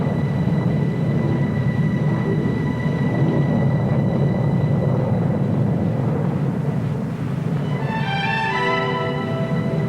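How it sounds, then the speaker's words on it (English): Formation of nine Hawker Hunter jet fighters of 111 Squadron flying a mass demonstration at the 1950 Farnborough air show, a loud continuous broad roar that holds steady, with rising whining engine tones near the end. "Mass demonstration of Hawker Hunters by 111 Squadron."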